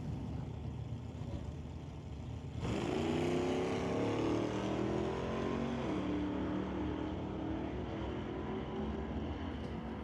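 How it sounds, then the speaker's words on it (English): Drag racing at a bracket event, with a 4 Cycle Customs pickup and a Cutlass launching down the track: a loud engine roar surges in suddenly and holds strong, rising in pitch as the vehicles accelerate away. "He races Grant Gordon in the 4 Cycle Customs Incorporated pickup"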